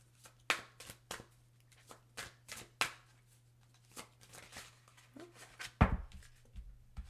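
Green Witch Oracle cards being shuffled by hand, a steady run of soft crisp riffles and taps close by over a low constant hum, with no talking.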